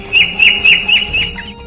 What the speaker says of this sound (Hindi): पक्षियों की आवाजें ऐसी लगती हैं जैसे कह रही हूं